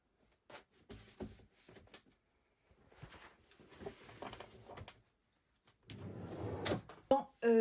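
Wooden drawers slide open and shut in a bedroom while clothes are sorted, a few soft scrapes and knocks spread across the moment, ending with a louder rustle and thud close by; quiet talk in French surrounds it.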